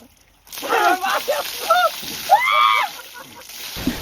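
Cold water is poured over a person during a Maggi noodle eating challenge, a splashing slosh heard close and loud while people shout and react over it.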